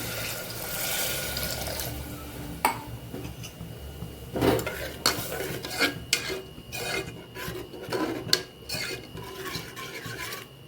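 Hot water goes into a pot of sev usal and gets stirred, a spoon scraping and rasping against the metal with sloshing and clinks, close and fairly loud.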